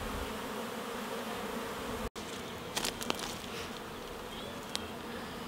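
Honeybees hum softly around small beehives, nucleus hives, on an organic vegetable farm near Saint-Omer in Pas-de-Calais, a faint continuous buzz with a few brief insect passes close by.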